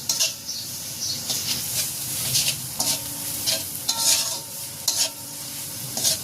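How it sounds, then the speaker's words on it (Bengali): Ginger-garlic paste and spices with salt frying over low heat in a pan for a light fish curry, a steady close sizzle broken by repeated scraping stirs. "চুলার আঁচটা কমিয়ে মশলাগুলোকে 1-2 মিনিট একটু ভেজে নেব।"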